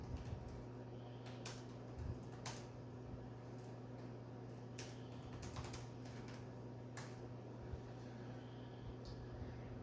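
Quiet, close typing on a computer keyboard with irregular bursts of key clicks over a steady background hum, no voices.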